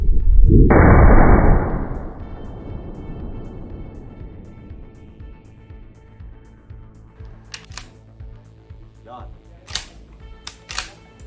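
A single shot from an A-TAC pump-action foam dart gun, a sharp loud crack at the start that fades into a long decaying tail, followed by quieter clicks and handling noises.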